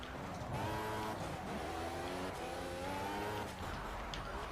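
A Lotus 98T Formula One car's engine screams at high revs in a racing video game lap of the Nürburgring, a steady near whine that rises and dips with gear changes.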